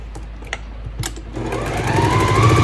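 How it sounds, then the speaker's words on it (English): A sewing machine stitches quilt pieces together at a quarter-inch seam, its motor whirring up to a steady, fast rhythmic hum that grows louder over a couple of seconds, with a few light clicks beforehand and no talk. "Why I'm sewing them all together."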